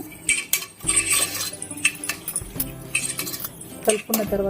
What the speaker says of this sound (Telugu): ఇలా వేసుకున్న తర్వాత వీటన్నింటినీ బాగా కలుపుకోవాలి.